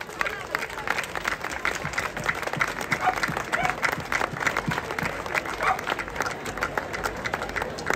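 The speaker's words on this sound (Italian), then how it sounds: "ricordiamo in un grande applauso Giuseppe" Applause from an audience at the Remo d'Oro "Giuseppe Cataldo" 2022 rowing award ceremony honours Giuseppe, with sustained dense clapping and crowd noise and some voices mixed in.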